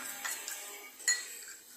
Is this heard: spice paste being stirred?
yes